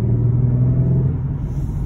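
A dream car's engine revs loud and close, a steady deep rumble with no speech over it.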